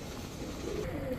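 A pair of Budapest cross pigeons give low, soft coos against a steady background hum, close and fairly quiet.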